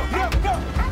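A dog gives short yipping, whiny barks close by, several quick vocalizations in under a second over a low steady background.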